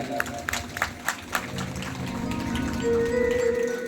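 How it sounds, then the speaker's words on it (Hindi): Scattered, fairly faint claps rise from an audience at a Shrimad Bhagavat Mahapuran religious discourse, a handful of separate hits at first, then giving way to a steady sustained tone. "एक बार उनके लिए भी जोरदार ताली।"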